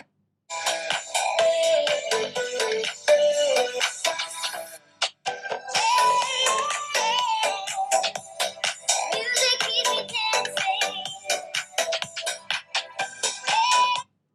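Music played loud through the built-in speaker of an Asus ROG Phone 5s, at maximum volume, running nearly continuously with punchy beats and a short break midway.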